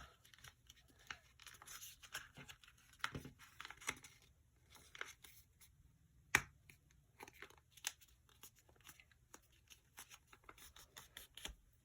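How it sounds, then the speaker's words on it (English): Paper being folded in half for a paper-claws craft: quiet, close crinkles, scrapes and rustles in irregular bursts, with one sharp crease snap partway through and no talk. "fold this in half"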